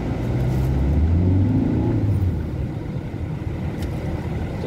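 A car rumbles along a road with a steady low engine drone, fairly close and loud, fading slightly toward the end with no talking.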